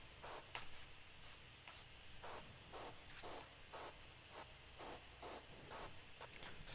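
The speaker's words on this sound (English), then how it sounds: "it's just, white noise." White noise from a Serum software synthesizer with its filter switched off, a steady broadband hiss pulsing on and off in short regular bursts, about ten repeats, close and fairly quiet.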